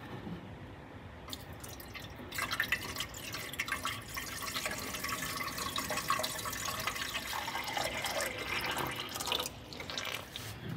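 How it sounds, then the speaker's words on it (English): Water trickles and splashes steadily as it is poured into the cooling system of a 1962 Austin Healey Sprite Mark II, a continuous close liquid sound with no talking. "So I'm just gonna put in water for now."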